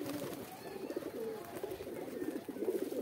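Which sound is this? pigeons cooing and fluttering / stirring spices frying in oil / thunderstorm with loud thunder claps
pigeons cooing and fluttering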